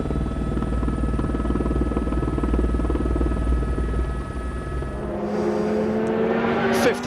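A helicopter hovers over a stage of the 2002 Monte Carlo WRC Rally, its loud, steady rotor drone filling the air before the tone shifts as a rally car passes nearby.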